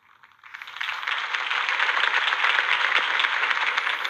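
A crowd bursts into applause after Harvey Dent's campaign speech, swelling quickly into a dense, sustained roar of many hands clapping that carries on without talk.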